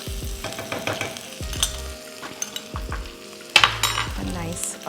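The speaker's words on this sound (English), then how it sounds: "this is a garlic and ginger, finely chopped, crushed into the oil, about a tablespoon" Finely chopped, crushed garlic and ginger frying in about a tablespoon of oil for a Hyderabadi jackfruit curry, a crackling sizzle punctuated by several loud spoon-against-pan knocks and stirring scrapes, close and without talk.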